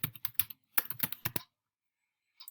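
Quick bursts of typing on a computer keyboard while entering spreadsheet data, about a dozen close, crisp keystrokes in the first second and a half, then silence and a final short tap near the end.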